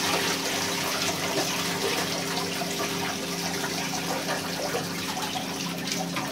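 Water drains steadily from a partly emptied household water heater tank, a constant close rushing and trickling flow that runs unbroken without any talk.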